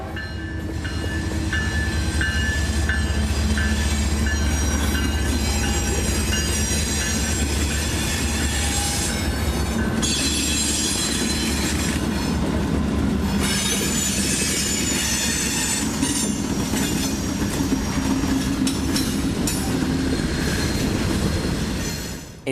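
Train M452 pulls north on the Y toward Lakeland Junction in Lakeland, a loud, close, continuous rail rumble with squealing wheels and rhythmic clickety-clack that persists throughout, no voices.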